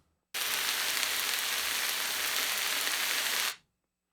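A dense, steady sizzle of crackling hiss starts abruptly, holds evenly for about three seconds, then cuts off into silence.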